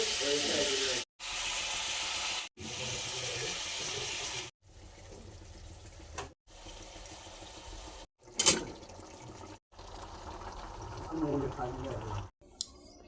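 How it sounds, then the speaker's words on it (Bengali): Chicken is dropped into hot oil to be cooked with tender bottle gourd, giving a hissing, steamy sizzle that comes in short chopped-up stretches while a person talks over it. "তেলের ওপরে চিকেনটা দেবো"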